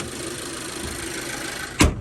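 A 2012 Chevy car engine idling steadily at a low, even hum, close and constant, then a sudden loud thump near the end.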